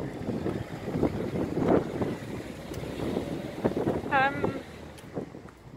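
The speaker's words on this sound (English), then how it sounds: "So it's very windy" Wind gusts roar across an outdoor microphone in a steady rumbling buffet while someone talks over it.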